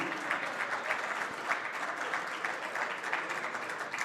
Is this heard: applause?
yes